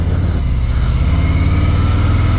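A Harley-Davidson Fat Boy motorcycle with a 240 rear tire rounds a corner, its engine a loud, steady close-up rumble with constant low throbbing and no talking.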